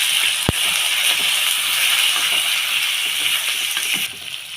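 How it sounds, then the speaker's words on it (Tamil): Green chillies sautéing in hot oil with curry leaves and turmeric, a steady bright sizzle with soft crackles and one sharp tick near the start, close and continuous, fading slightly at the end. "இது நல்லா வதங்கினது தெரியுங்க."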